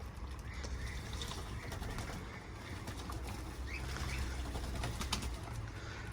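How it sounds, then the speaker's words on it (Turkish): Pigeons bathing outdoors on a humid, rainy day, their wings flapping in faint fluttering bursts over a steady wash of background noise. "Kuşlar da banyo yapıyor."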